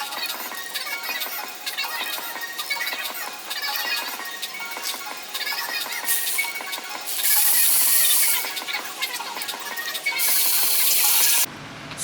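A ratchet clicks repeatedly while backing out stator cover screws on a Kawasaki 636 motorcycle, close and mechanical, with bursts of rapid pawl chatter and a brief louder whirring passage near the end.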